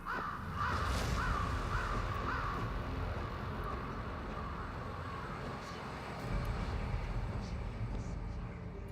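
Crows cawing from an animated card in the digital card game Gwent, several rough caws repeating over the first few seconds amid steady game background sound.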